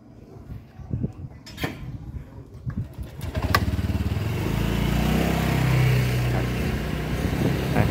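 A motorbike engine starts after some clattering handling, then runs steadily and revs as it rides down a short road toward the beach at Phuoc Hai, loud and close.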